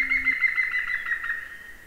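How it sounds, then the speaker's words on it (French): A European green woodpecker gives a loud, ringing, laugh-like call: one sustained run of quick, evenly pulsed notes that fades slightly toward the end. "Troisième, le pic vert."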